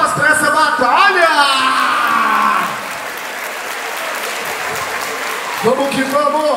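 A crowd applauds and cheers at a live Brazilian rap battle event, loud sustained clapping with whoops that fades to a lower wash, then a voice rises again near the end.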